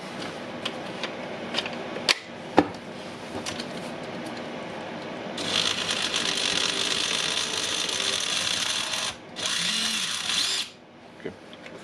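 A Dewalt drill runs after its transmission box has been swapped, giving a loud, even motor whir with ratcheting clicks in two long bursts separated by a brief pause, preceded by scattered handling knocks.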